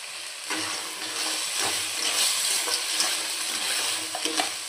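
Crab claws go into sizzling masala in a pan for a village-style crab curry, a dense frying hiss with intermittent spatula scrapes and stirring, close and fairly loud.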